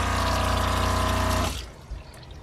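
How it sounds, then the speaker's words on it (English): An RV's fresh-water pump runs steadily with water rushing into the sink, a loud continuous hum and flow that cuts off abruptly partway through, leaving quiet room tone. "Your water pump button is going to be right here."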